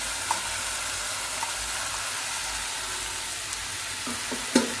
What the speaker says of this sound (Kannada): ಹುರಿದಿಟ್ಟ ಬೆಂಡೆಕಾಯಿನ ಹಾಕ್ಕೊತಾ ಇದ್ದೀನಿ.